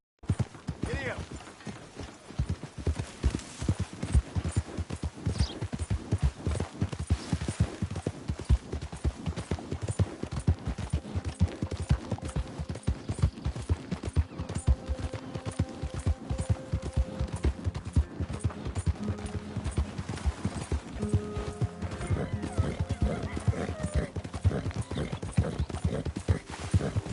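Horse hooves clip-clopping in a PS4 video game, a fast steady rhythm of close hoofbeats throughout, with occasional soft tonal sounds in the background.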